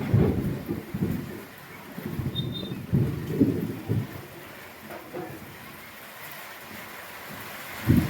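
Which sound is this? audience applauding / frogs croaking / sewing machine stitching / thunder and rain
thunder and rain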